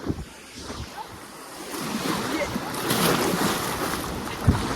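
Sea waves wash onto a beach at Ratnagiri on the Konkan coast as a steady broadband surge that swells and recedes, with wind buffeting the microphone and a brief thump near the end.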